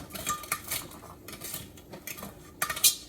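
A metal fork clinks and scrapes against the inner pot of an Instant Pot Duo air fryer while lifting out crispy chicken wings, with several short bright metallic taps and clatters spread unevenly over a few seconds.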